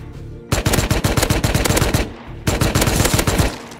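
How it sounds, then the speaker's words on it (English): Rapid automatic gunfire in a video game comes in two loud, close bursts of fast repeated shots with a brief pause between them. "I'm getting shot at."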